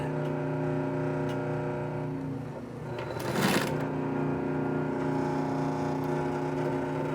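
A Singer 111w151 industrial sewing machine hums steadily as it stitches through four layers of material, with a loud, even motor drone, a brief louder whir partway through, and no speech.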